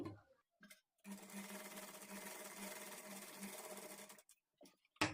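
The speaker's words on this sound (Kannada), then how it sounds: "ನಾನಿಲ್ಲಿ ಸ್ಟಿಚ್ ಮಾಡಿ ತೋರಿಸ್ತೀನಿ ಲೂಸ್ ಸ್ಟಿಚ್ ಯಾವ ಥರ ಬರುತ್ತೆ ಅಂತ" A domestic sewing machine runs steadily for about three seconds, making a close, even mechanical whirr with a regular needle rhythm, between short quiet pauses.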